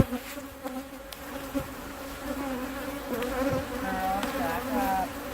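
A swarm of honeybees buzzes close and all around in a continuous droning hum, individual insects rising and fading as they fly past the microphone.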